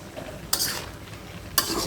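A spoon stirs hilsa fish heads with Malabar spinach and a generous amount of coriander powder in a sizzling pan. Two sharp scraping strokes cut through a steady close frying hiss.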